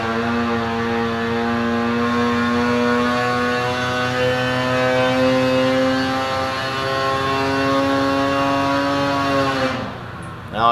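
Polaris 850 snowmobile engine with an SPI pipe and reflashed tuning, over-revving on a dyno pull: a loud, sustained two-stroke whine holding a steady high pitch for about ten seconds, then cutting off abruptly at the end.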